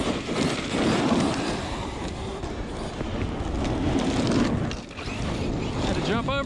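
ARRMA Kraton 8S EXB RC car running a freestyle bash at an outdoor spot, a steady loud mechanical whir and rattle of drivetrain and gravel that dips briefly near the end before surging again, with no talking.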